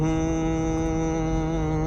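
A steady, even whine with a low droning hum comes from the turning front drive shaft of a 4x4 SUV driven on a normal road. The tone holds constant throughout and no one speaks.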